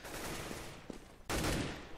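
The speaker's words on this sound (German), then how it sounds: "Boah, schöner Schuss von Pascha." Gunfire from the video game Counter-Strike on the de_nuke map, during a professional match: a short shot around the middle, then a loud sustained burst of rapid fire that keeps going to the end.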